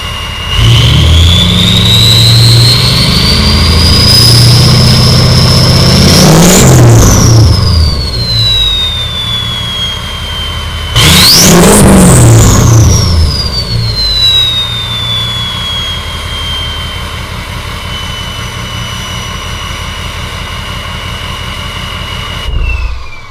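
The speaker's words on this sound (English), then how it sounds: "you hear that turbo spool." Turbo spool from a tuned diesel truck, a loud whistling whine that climbs and falls twice over a rumbling engine, close and continuous with no talk.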